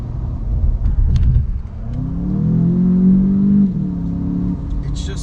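A 2019 VW Jetta GLI with a 7-speed DSG automatic in sport mode, driving twisty roads near Road America in Wisconsin; its engine rumbles and rises in a steady rev for a few seconds, heard from inside the car with a voice talking over it.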